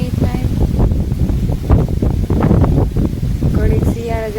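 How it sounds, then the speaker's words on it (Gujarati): Strong wind buffets the microphone outdoors on a farm in a village, a steady low rumbling roar running throughout while a person talks over it. "પવન ફૂલ છે."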